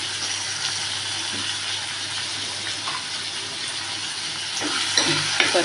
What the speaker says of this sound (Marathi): चना डाळीला, जरा तेलावर चांगली भाजली